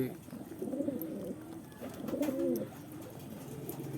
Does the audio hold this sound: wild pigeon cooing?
yes